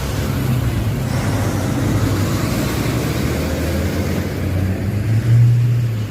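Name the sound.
trucks passing on road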